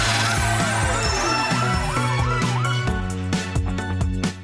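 A toy police truck siren wails in rising and falling sweeps, loud and close, then gives way to repeated sharp clattering hits.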